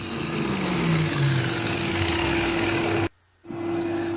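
Angle grinder cutting a block with vacuum dust extraction: a loud, steady high-pitched whine with a droning vacuum roar beneath it. The grinder cuts off for a brief moment, then the roar builds up again.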